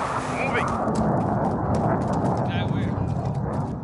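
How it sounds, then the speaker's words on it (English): A precision airstrike in a first-person shooter game: a heavy, sustained roaring blast and rumble fills the whole stretch, loud and close, with crackling debris on top and a voice talking over it. "friendly precision airstrike inbound"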